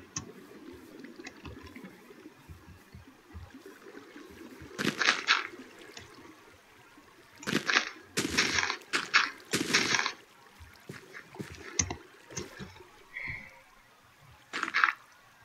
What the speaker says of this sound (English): your big nice waterfall